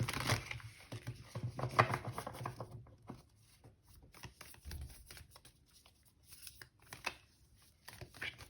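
Oracle cards being shuffled by hand in a card-reading session, an irregular run of close, soft riffling and slapping bursts that thin out into scattered taps and flicks, with no talking.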